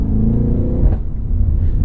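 A 2023 BMW M8 Competition Coupe's engine in M mode, a loud, close, deep rumbling rev that swells, dips briefly and then holds a steady growl.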